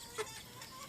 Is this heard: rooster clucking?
yes